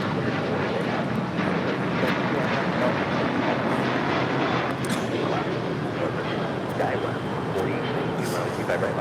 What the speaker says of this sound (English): This is Southwest Airlines 3025 taking off to Albuquerque on a 737-700.